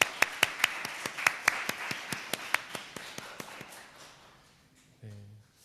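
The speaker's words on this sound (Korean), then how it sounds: "우리 옆에 있는 분들을 박수로 환영했으면 좋겠습니다." A church congregation at a Sunday service in Darmstadt claps to welcome the people beside them. Crisp, scattered claps ring out clearly at first, then thin out and fade, and a brief voice follows at the end.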